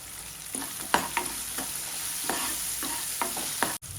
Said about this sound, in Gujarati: ટામેટું થોડું સોફ્ટ થાય ત્યાં સુધી સાંતળી લઈશું